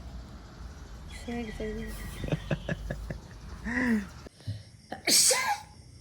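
A sudden loud sneeze near the end, preceded by faint chatter, chirpy background sounds and some clicks.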